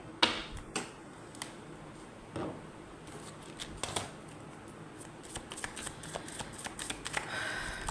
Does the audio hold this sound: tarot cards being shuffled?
yes